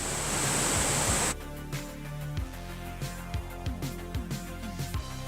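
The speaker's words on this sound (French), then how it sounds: "comme on est sur un ruisseau à petit débit" A small, low-flow stream by an old mill dam gives a broad rushing wash at first, then falls to faint trickling broken by soft irregular knocks and drips nearby.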